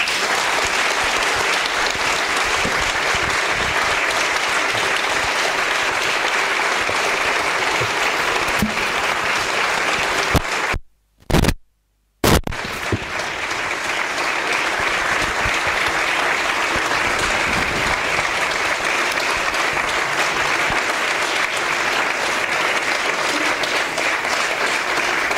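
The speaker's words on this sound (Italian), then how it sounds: "Tenetegli gli applausi anche per dopo, non è finita." An audience applauds at a book presentation, a loud, sustained wash of clapping with a brief dropout partway through before it carries on at full strength.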